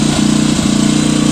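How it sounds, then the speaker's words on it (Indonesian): A Krisbow Silent 2000 W portable generator runs steadily, its engine giving a loud, continuous drone with an even throb and no voices over it. "genset ini yang kapasitasnya 2000 watt"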